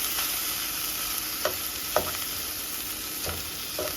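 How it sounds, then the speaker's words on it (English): Food sizzles in a hot pan under a steady frying hiss, with a few soft scrapes of stirring spaced through it and no one speaking. "A little bit of stirring."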